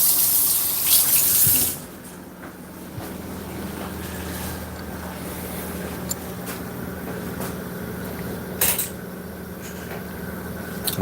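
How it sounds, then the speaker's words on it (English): Water from a kitchen tap runs steadily while hands are rinsed after preparing fish and chips, a continuous close hiss that starts with a louder burst and carries on with small splashes, no talk. "Just give my hand a bit of wash."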